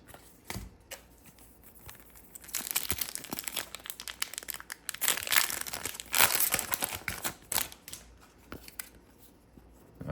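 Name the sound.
opening Panini Haunted Hoops basketball card packs, wrapper crinkling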